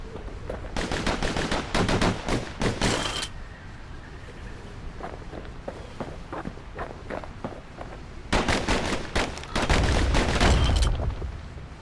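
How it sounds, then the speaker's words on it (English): Dual slinger pistols fire rapidly in the video game Bastion, loud staccato volleys of shots that come in bursts with sparser single shots in between. "Know what's better than having a slinger pistol in a fight? Having two. Kid's faster than a slinger with those guns."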